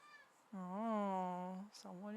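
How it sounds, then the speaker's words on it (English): A cat gives two meows: one long, drawn-out call, then a shorter one starting. Both are fairly faint against a quiet indoor background. "Oh, someone is meowing."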